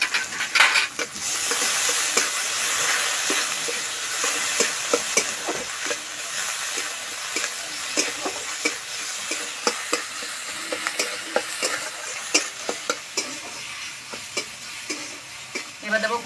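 Sliced onion, green chilli, tomato, dried chilli and ginger-garlic paste fry in a pan, a constant bright sizzle punctuated by frequent clicks and scrapes of a spatula stirring, loud and close throughout.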